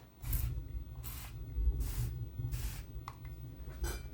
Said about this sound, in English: I'm going to tilt it and maybe even spray it again.